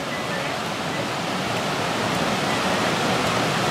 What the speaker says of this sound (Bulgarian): Днес прекосяваме много реки. Това е Мозговишка река.